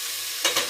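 Cooked cucumber and lentil palya lands in a hot tempering pan and is stirred, giving two quick, close scraping sizzles over a steady background hiss.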